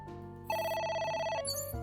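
A telephone ringing in the game AI: The Somnium Files, an electronic trilling ring that swells loud and steady for about a second, then shifts to a brief higher tone, with no talking.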